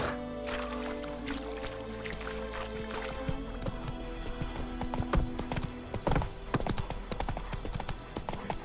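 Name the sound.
horse Roach running, hooves clip-clopping, from video game The Witcher 3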